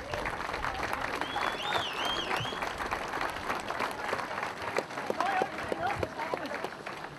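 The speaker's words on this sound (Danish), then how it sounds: "Og så klapper vi af en velfortjent sølvmedalje til Mathias Jørgensen." A crowd at a Danish motocross championship ceremony applauds for medal winners, a steady patter of clapping with faint talk and whistle-like tones drifting over it.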